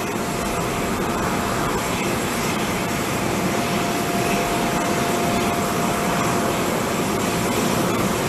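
A presidential Airbus A330 on the ground at Plaisance airport after landing, giving a loud, steady, broadband jet-engine roar with no talk.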